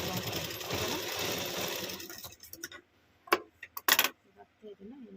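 A sewing machine stitches piping cord onto blouse fabric with a steady, close whirring run for about two seconds, then stops, leaving a few sharp clicks and clunks of handling.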